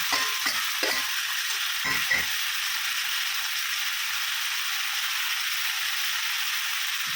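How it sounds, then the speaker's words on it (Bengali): Whole onion and ginger-garlic-onion paste frying in a pan give a loud, steady hiss and sizzle, with a few low stirring knocks early on. "গোটা পেঁয়াজটা দিয়েছি, আর এই যে পেস্ট করাটা ছিল এটা দিয়ে দিলাম, আদা রসুন পেঁয়াজ"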